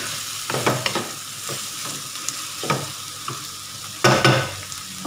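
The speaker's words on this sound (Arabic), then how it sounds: "ونخلطوها ونخليوها حتى هي تقلى واحد شويه" Kefta, seasoned ground meat, frying in a pan while being stirred, with a soft continuous sizzle broken by sharper scrapes and clatters from the stirring, close up with no talking.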